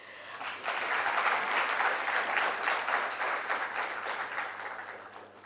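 Audience clapping at a public lecture, a warm burst of many hands that swells quickly, holds steady, then begins to taper off toward the end.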